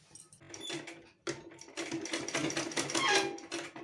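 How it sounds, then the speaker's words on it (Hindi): A sewing machine stitches a petticoat seam in close, rapid rattling bursts: a short run, a brief pause, then a longer steady run that speeds up near the end. "1/2 इंच मार्जिन के हिसाब से हम इसको सीलते जाएंगे।"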